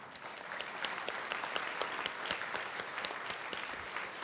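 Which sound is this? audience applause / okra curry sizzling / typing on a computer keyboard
audience applause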